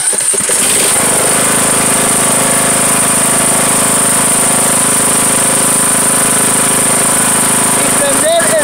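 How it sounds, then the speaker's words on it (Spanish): A Craftsman riding lawn mower tractor engine runs loud and steady nearby after a brief start, droning continuously with a rough, mechanical buzz throughout. "es prender tu tractor"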